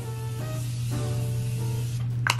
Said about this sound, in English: Best setting spray ever.